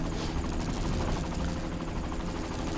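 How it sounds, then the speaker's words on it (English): A helicopter in the video game Secret World Legends makes a dense, continuous rotor roar with rapid chopping pulses, loud and steady throughout with no talk. "We just board the helicopter and head back to where we started."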